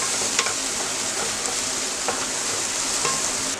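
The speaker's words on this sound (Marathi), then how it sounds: "चांगलं फ्राय करून घेऊया." Chopped onion and capsicum fry in a pan with a dense, even sizzle close up, punctuated by a few light stirring clicks against the pan.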